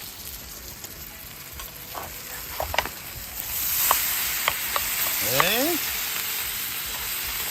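Breakfast frying in a pan hisses softly as it gets stirred, with a few sharp scrapes and clicks of the utensil over a steady sizzle that swells midway; one short spoken word drops in briefly.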